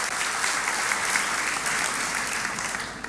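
A church congregation applauds during a sermon, a dense, even roar of many hands clapping together that holds steady at moderate loudness for the whole stretch, with no voice over it.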